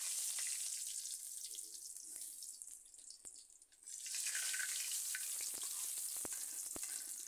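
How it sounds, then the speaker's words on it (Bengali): Rui fish pieces sizzle steadily in hot oil in a home kitchen pan, a continuous near hiss with a brief dip midway before the frying crackle swells back, no talking. "দেখুন, মাছ আমি লাল লাল করে ভেজে নিয়েছি।"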